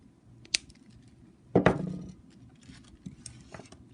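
A wire tail on a wire-wrapped bead earring is trimmed with cutters, giving a sharp snip near 0.5 s and a louder crunchy click around 1.6 s, then a few small handling taps, all up close in a quiet room.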